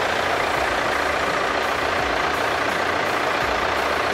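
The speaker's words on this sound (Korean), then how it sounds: "엔진 소리 일정하고 좋습니다." A Hyundai New Tucson ix diesel (e-VGT) SUV engine idles with a steady, even rumble, close up and continuous, with no voices over it.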